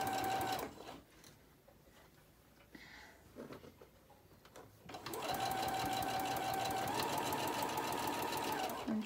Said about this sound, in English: And try to sew as straight as you can.